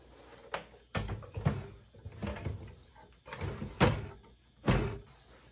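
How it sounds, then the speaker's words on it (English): An IGT S+ slot machine hopper being slid back into the cabinet, a string of loud, close metallic knocks and thuds arriving in uneven bursts with short pauses between them. "put the hopper back in"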